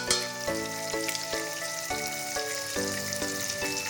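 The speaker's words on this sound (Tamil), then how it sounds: "நல்லா தக்காளியை வதக்கிக்கோங்க." Chopped tomatoes sautéing in a pan for rasam, a steady close sizzle broken by regular stirring scrapes and clinks.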